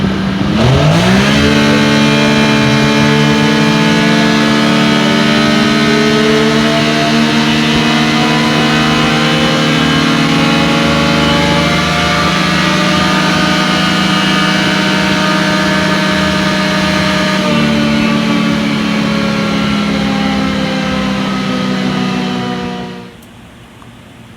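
Textron Wildcat XX engine after an ECU flash on a dyno top speed run: a loud, close engine rising from low idle into a sustained high-rpm drone with climbing harmonics, holding for about twenty seconds before cutting off at the end.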